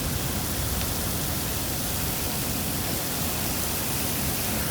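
A heavy storm downpour falls hard and close, producing a loud, unbroken broadband hiss with no pauses or talk over it.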